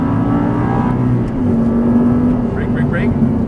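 An Audi R8 V10 accelerates around the Auto Club Speedway racetrack, a loud continuous engine drone with rising tone, heard from inside the car while a voice talks over it.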